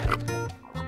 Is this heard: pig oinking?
yes